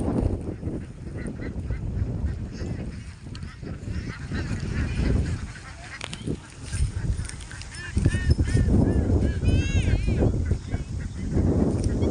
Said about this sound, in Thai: นี่จ้า เป็ดเราเดินขบวนแล้วจ้า